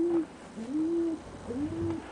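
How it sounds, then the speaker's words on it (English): A pet pigeon coos softly and close by, three drawn-out, low, wavering coos with short pauses between them, no one talking. "There's Mau Mau, my beautiful pigeon. My new pigeon, Mau Mau."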